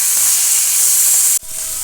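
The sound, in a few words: hilsa fish frying in oil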